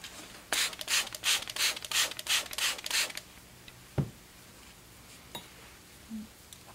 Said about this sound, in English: So now I want to remove my burr on my stone. And I'm using the 4000 grit side.